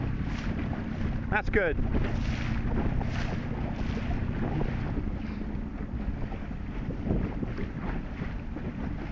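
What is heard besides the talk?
wind on a sailboat at sea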